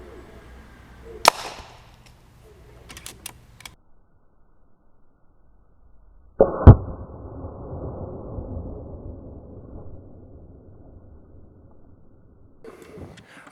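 An air rifle fires a slug into an apple: a sharp crack near the start, then after a quiet stretch a second loud snap and burst followed by a few seconds of rustling debris and settling noise.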